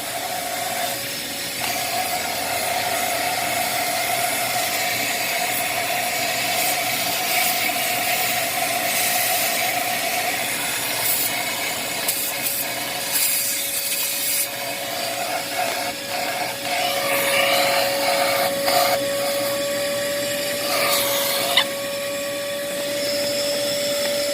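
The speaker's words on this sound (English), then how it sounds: "I'm going to try to vacuum" A shop vacuum runs continuously nearby while cleaning a BMW E9x M3 throttle body, a steady motor whine with shifting suction hiss and occasional rattles as it picks up material.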